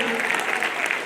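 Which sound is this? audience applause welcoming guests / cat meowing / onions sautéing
audience applause welcoming guests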